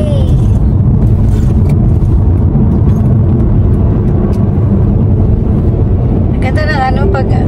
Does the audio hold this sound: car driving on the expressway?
yes